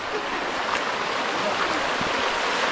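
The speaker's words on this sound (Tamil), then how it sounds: "அந்த சத்தம் கேக்குதா உங்களுக்கு? ஜலத்தோட சத்தம்." A stream running near Siva Kona waterfalls in Rapuru, Andhra Pradesh, makes a steady broadband rush of flowing water that continues unbroken throughout, with no voices.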